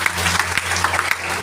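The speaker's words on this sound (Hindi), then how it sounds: "एक ताली मारिए" Audience applause at a motivational meeting: a short burst of dense, steady clapping over a low electrical hum.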